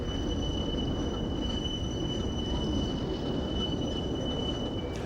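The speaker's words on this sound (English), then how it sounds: "the train then completes its journey over a 3/4 mile long light railway" British Rail freight train of chemical tank wagons rolling on the North Wales line, steady rumbling wheels with a sustained high metallic squeal, close and continuous.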